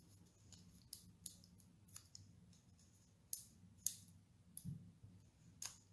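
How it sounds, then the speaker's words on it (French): Scissors snip excess paper card away in a series of sharp, irregular clicks and cuts, close and quiet, against a faint low background hum. "je vais couper ce qui dépasse un peu de la carte"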